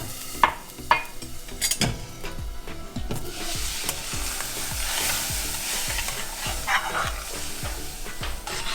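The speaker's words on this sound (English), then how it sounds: "So now I'm going to pour in my hot milk." Hot milk poured into roasting semolina for Gujarati rava sheera, bursting into loud, steady spattering and sizzling that builds and holds for several seconds, with a few sharp clatters of a spoon or lid near the start.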